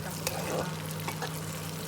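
Onion frying in a pan for a home-cooked biryani, a brief close sizzle with light stirring clatter and a steady low hum underneath.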